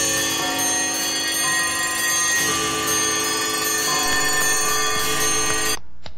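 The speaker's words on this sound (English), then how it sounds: "Suddenly the bells went off." A dense metallic bell ringing sound, many overlapping struck tones and ringing overtones sustained loudly and continuously before cutting off abruptly near the end.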